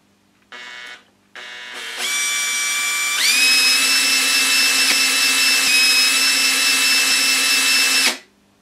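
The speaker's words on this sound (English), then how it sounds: "So I connect my electric drill to the shaft." An electric drill connected to a shaft starts in short bursts, then spins up into a loud steady high-pitched whine that holds for several seconds before cutting off.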